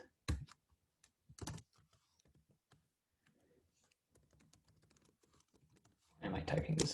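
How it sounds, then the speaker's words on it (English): Typing on a computer keyboard during Go coding work, heard as scattered clusters of close key clicks among soft murmured speech, ending with a louder burst of rapid keystrokes. "Am I typing this again?"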